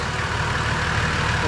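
A Holden VT Commodore with no exhaust fitted idles just after starting, giving a steady, close, low rumble with an even throb.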